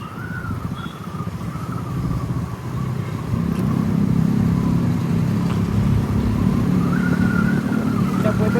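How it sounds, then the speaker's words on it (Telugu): A motorcycle with no silencer roars loudly and steadily at night near HiTec City, its raw unmuffled engine droning and revving continuously close by. "సైలెన్సర్ లేదు దానికి, సైలెన్సర్ లేదు. ఎట్లా వస్తుంది చూడు సౌండ్."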